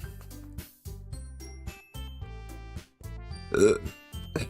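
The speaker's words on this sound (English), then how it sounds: "I need a burp." A single brief burp erupts over steady rhythmic background music with pulsing low tones during play of Doki Doki Literature Club.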